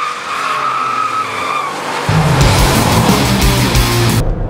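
Kia Stinger GT sliding its rear wheels on a race track: a high tire squeal rises, then a louder scrubbing skid with engine roar takes over before ending abruptly.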